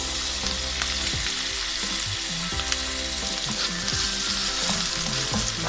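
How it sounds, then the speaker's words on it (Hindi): Tomatoes dropped into a pan of fried garlic and ginger, setting off a loud, steady sizzle with occasional stirring clinks, continuous and close, with no talking. "लहसुन और अदरक फ्राई हो चुका है। अब मैं इसके अंदर टमाटर डालता हूँ।"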